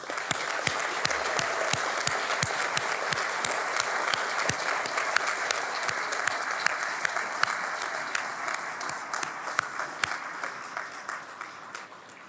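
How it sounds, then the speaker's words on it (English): An audience at a higher degree conferring ceremony claps in sustained, dense applause for about twelve seconds, loud and even, with sharper individual claps standing out and fading slightly near the end. "I think they deserve a round of applause"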